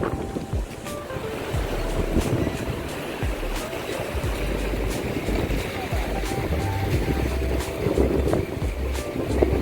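Strong wind roars over Chandil lake as choppy waves slap and churn steadily close by, a continuous rough rush of air and water throughout.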